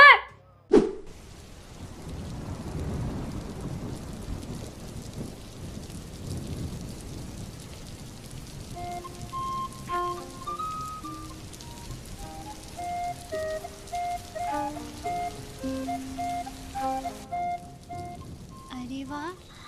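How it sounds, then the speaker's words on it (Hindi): Monsoon rain falls steadily with a low rumble of thunder near the start, a soft hiss of drops carrying on throughout while faint tonal sounds, like a tune or a television, play over it. "आज तो बारिश हो रही है"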